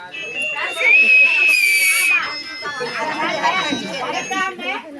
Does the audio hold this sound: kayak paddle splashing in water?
no